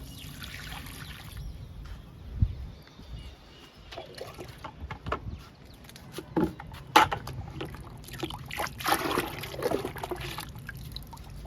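Liquid fertilizer is poured onto the soil around a potted red oleander, making soft, irregular trickling and splashing in brief bursts against a quiet outdoor background.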